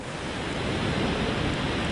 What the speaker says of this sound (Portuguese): as ondas criadas por ele rolam até bater nas praias